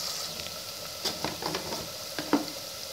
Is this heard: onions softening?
yes